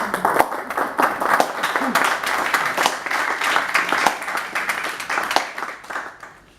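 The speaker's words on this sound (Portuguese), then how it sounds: "Dê uma salva de palmas ao Luís Sangano." A crowd at a book launch claps steadily for several seconds, the rapid hand claps loud and sustained, then thinning slightly toward the end with some voices underneath.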